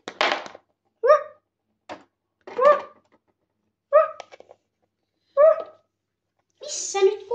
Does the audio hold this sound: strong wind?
no